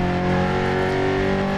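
A historic rally car in DiRT Rally 2.0 on a Spanish stage, its engine droning loud and steady at high revs with a rough, rattling tone and no pauses.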